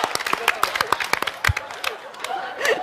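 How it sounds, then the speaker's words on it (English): Scattered, irregular claps from a small casual audience, sharp and close, mixed with chatter and a few voices between the hand hits. "Why y'all clapping?"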